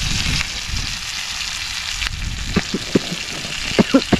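Jilebi fish with masala fries in a pan, a loud close crackling sizzle that grows spattery with sharp pops and stirring clinks toward the end.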